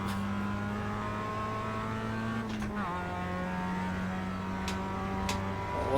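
Race car engine in iRacing accelerating out of a turn, a steady droning whine with a brief gear-change dip, loud and close throughout.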